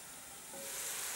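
Chicken pieces frying in a hot pan, a dense, continuous sizzle that swells slightly louder over a second or so, close and alone.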